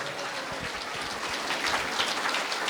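A church congregation applauding, with dense, steady clapping that holds at an even level from start to finish, heard alone with no talk.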